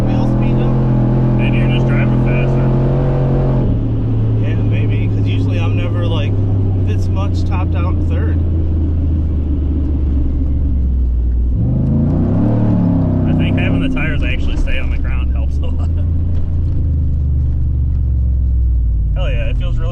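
A Ford Raptor truck engine drones loudly throughout while driving, its pitch rising and then dropping at a gear shift, with people talking over the steady cabin rumble.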